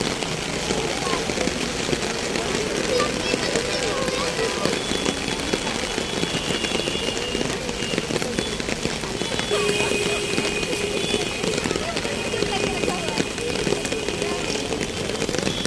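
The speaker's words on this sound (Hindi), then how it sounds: "देखो गाइस कितनी बारिश हो रही है नोएडा में।" Heavy monsoon-style rain in Noida pouring down steadily, a dense constant hiss and patter on surfaces, with voices faintly audible in the background.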